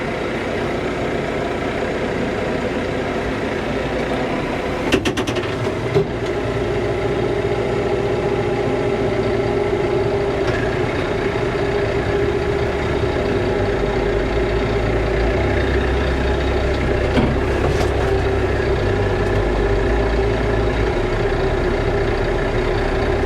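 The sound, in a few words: Kioti RX6620 tractor engine running while raking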